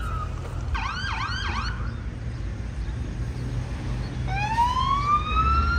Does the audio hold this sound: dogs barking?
no